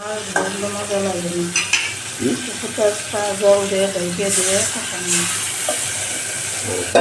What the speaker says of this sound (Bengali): মাছ মাছগুলো কষাতে হবে মশলাটা সাথে সুন্দর মতো